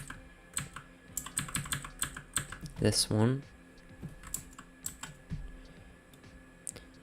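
Rapid clicking of a computer keyboard as a command is typed in, with bursts of keystrokes across the span and a short spoken phrase breaking in midway.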